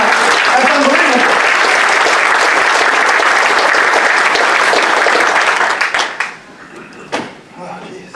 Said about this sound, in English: Give a nice round of applause for helping out.